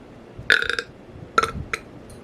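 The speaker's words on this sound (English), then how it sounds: "Didn't even know I was gonna burp or not" A man lets out a loud, close burp in two or three guttural bursts, with a brief pause between them.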